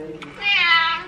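A pet cat meows in response to a tuna can being opened, a single drawn-out meow rising in the middle of the moment, close by, with a voice talking around it.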